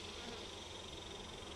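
Honey bees buzz continuously at an open Langstroth hive in Central Texas, a dense, faint, even hum with no talk over it.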